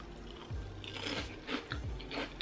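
Crunchy seaweed-and-cheese snack from Seoul bitten and chewed close to the mic, several crisp crunches in quick succession, fairly quiet, with no talk.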